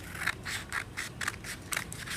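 Scissors snipping through blue construction paper in a steady rhythm of about five crisp cuts, close and clear with no talking.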